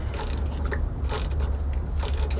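A ratchet tightens a bolt during a SumoSpring install on a Ford Transit-based Winnebago Fuse, three short bursts of clicking spaced about a second apart over a steady low hum.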